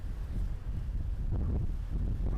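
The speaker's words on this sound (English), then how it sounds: "Oh, we're getting a breeze." A breeze gusting across an open airport apron, steady broadband wind buffeting close to the microphone with low rumbling swells and no voices.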